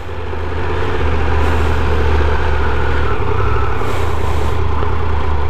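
A Bajaj Dominator 400 motorcycle engine runs steadily nearby, a loud, even low rumble that holds without change.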